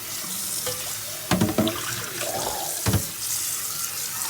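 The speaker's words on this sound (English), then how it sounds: "I'll rinse the entire plate again" Tap water running into a sink while a sterling silver plate is rinsed, a steady close splashing flow with a few louder clunks and splashes as the plate is handled.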